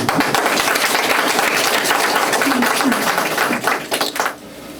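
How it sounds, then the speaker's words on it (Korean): A church congregation applauds during a church dedication service, loud sustained clapping that holds steady for several seconds before tapering off and stopping abruptly. "이분들을 위해서 박수."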